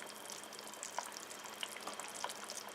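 Beef stock simmers in a pot with a soft, steady bubbling and scattered small pops, quiet and close, with no voices.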